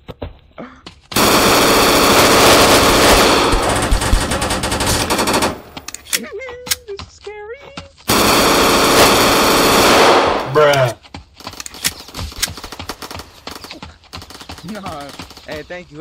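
Rapid automatic gunfire rattles in two long, loud bursts during a Roblox shooter match on a hood-style city map, followed by scattered single shots and brief excited talk between the volleys.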